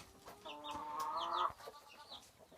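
A chicken clucks and calls in a short burst inside a coop, fairly quiet, with faint rustling around it and no voices.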